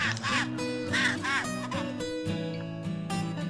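A chinstrap penguin feeding two chicks in Antarctica gives repeated harsh, honking calls up close, several braying bursts in quick succession over a steady background drone.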